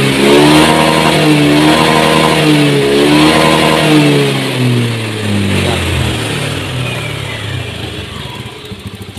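A Honda Beat FI motorcycle fitted with a Vario 125 fuel injector revs loudly up close, its engine note rising and falling in repeated throttle blips before settling lower.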